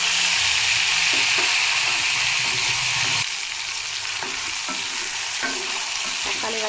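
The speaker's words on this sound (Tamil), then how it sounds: "இப்போ தக்காளி வதக்கி வச்சுக்கலாம்" Tomatoes sauté in a pan with a loud, dense sizzle that drops somewhat partway through, while a spoon scrapes and taps against the pan in irregular strokes.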